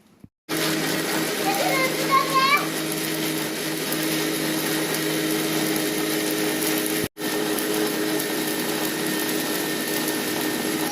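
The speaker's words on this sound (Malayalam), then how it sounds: "മിക്സിയിൽ തട്ടാൻ പോവാണ്." A mixer grinder blends a guava shake with a loud, steady motor whine and churning roar that runs nearly continuously, cutting out briefly in the middle before starting again at full speed.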